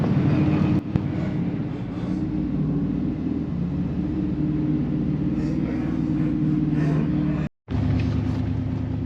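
A vehicle driving out onto frozen Red Lake in winter, giving a steady low engine and road rumble close up inside the cab, continuous throughout with one brief dropout near the end.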